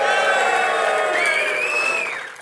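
A large outdoor crowd at West Hollywood Day cheers and screams loudly, high shrill whoops rising over a roar of voices, then fading toward the end.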